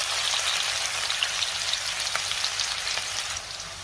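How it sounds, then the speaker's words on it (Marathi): Chopped onion and crushed garlic fry with cumin, cinnamon and cloves in hot oil for a moong bhaji, giving a steady, close, dense sizzle with faint crackles throughout and no voices. "कांदा थोडा लाल होईपर्यंत चांगला परतून घ्यायचा आहे आपल्याला।"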